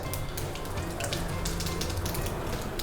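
Mustard seeds crackle and pop in hot coconut oil in a pan, a faint, steady sizzle dotted with quick bright spatters and no talking.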